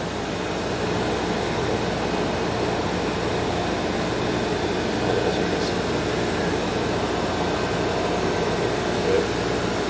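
Pumps, heaters, temperature controllers and a vacuum pump run together as a steady broadband mechanical drone, constant and unchanging, with no distinct events and no speech.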